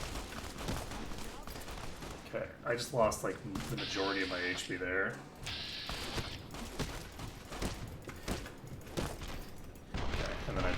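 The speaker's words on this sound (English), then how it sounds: "There's way too many gunshots for there to only be just one other guy." Rapid gunfire bursts in a shooter video game fight against assassins, repeated sharp shots under near-constant talking from a player.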